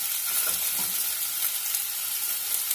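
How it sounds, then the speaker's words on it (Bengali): Vegetables for chicken mushroom vegetable thukpa sauté in a pan with a loud, dense, continuous sizzle close up, a few faint stirring scrapes underneath, and no voices. "কিছু সময় সটে করব, করার পর আমি অ্যাড করে দেব ক্যাবেজ"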